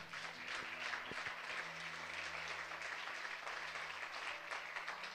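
A church congregation applauds for God during a sermon by a Nazarene pastor, a steady wash of clapping at moderate distance, with faint tones and brief knocks underneath.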